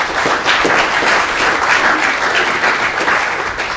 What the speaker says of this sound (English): let's give the panel a good round of applause